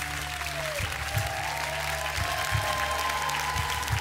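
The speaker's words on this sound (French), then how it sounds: "on peut encore vous applaudir" A television studio audience on L'École des Fans applauds steadily, a soft, even patter of clapping that runs throughout with faint musical tones sustained underneath.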